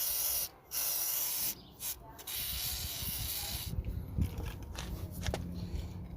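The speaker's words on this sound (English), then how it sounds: "Some WD-40." WD-40 lubricant sprayed from a can onto 2005 Toyota Prius brake parts, several close, sharp hissing bursts at the start followed by quieter handling noises and clatter.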